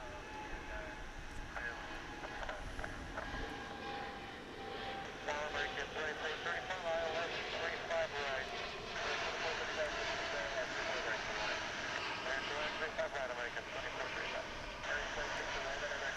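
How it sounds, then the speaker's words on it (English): A Boeing Dreamliner jet airliner departing from a large airport gives off a distant, sustained engine roar with a rising whine that strengthens midway and holds steady. "here goes the Dreamliner, all down there."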